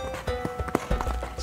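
Horse hooves strike the ground during show jumping, a quick, uneven run of close thuds and clip-clops over roughly a second and a half.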